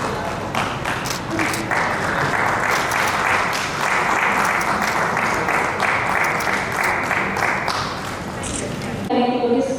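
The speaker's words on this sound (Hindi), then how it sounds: "ताली तो बजा दो भाई।" Audience in a hall applauding at a book launch ceremony, sustained dense clapping from many hands for several seconds, fairly close, with voices murmuring underneath before the applause fades out.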